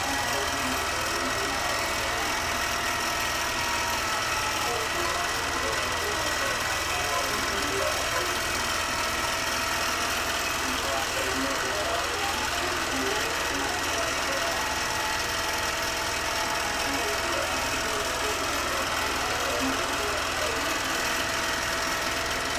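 An embroidery sewing machine stitching a motif, running as a dense, constant mechanical whir and rapid needle chatter throughout, loud and close with no pauses.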